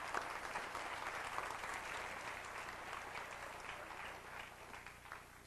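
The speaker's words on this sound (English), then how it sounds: "Give them a round of applause" An audience at a lecture for teens claps in sustained, even applause, a distant wash of many hands lasting several seconds and slowly thinning toward the end.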